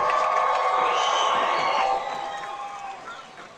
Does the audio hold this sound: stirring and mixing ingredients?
no